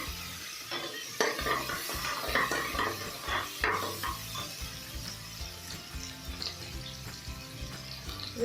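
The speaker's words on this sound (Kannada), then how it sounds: "ಇದ್ರಲ್ಲಿ ನಾನು ಒಂದು ಆನಿಯನ್ ತಗೊಂಡಿದ್ದೀನಿ ಆನಿಯನ್ ಚೆನ್ನಾಗಿ ಫ್ರೈ ಮಾಡ್ಕೊಳ್ಳಿ" Onion frying in a pan for capsicum rice: a close, continuous sizzle with repeated scraping and clinking of a spoon as it is stirred, and no talk.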